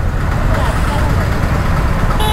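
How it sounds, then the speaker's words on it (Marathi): Heavy road traffic on a busy Indian street: a dense, loud wash of car, truck and bus engines with a brief horn toot near the end, people talking over it. "भरपूर जास्तच ट्रॅफिक आहे."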